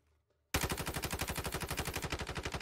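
Rapid automatic gunfire from the Call of Duty Warzone Mobile video game breaks out after a short quiet moment, then hammers on in a loud, steady stream of shots for about two seconds.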